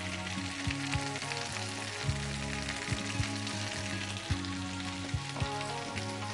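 Garlic and ginger paste sizzles steadily in hot mustard oil, added after onion paste and a tempering of bay leaf, dried chilli, cumin and asafoetida; a continuous close frying crackle plays under background music.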